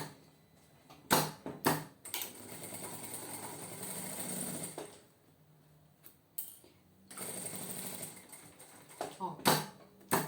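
A sewing machine stitches a zipper onto fabric with backstitching at the start and end, running in bursts of steady mechanical clatter separated by short pauses and sharp clicks, close and clear with no one talking.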